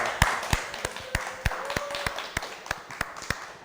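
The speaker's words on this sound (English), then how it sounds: "let's give a big round of applause to Savannah" A small group claps for Savannah, a guest in a studio production, with roughly a dozen sharp, evenly spaced claps over a light background murmur.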